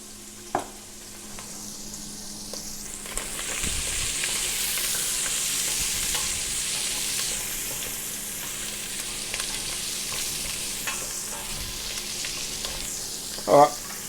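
Food fries and sizzles steadily in a pan at a low, even level, with a couple of brief clinks of utensils.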